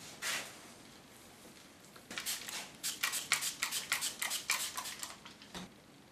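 Scissors cutting hair in a salon give a quick series of close, crisp snips, one early and then about a dozen in a steady rhythm over the last four seconds, with no voices.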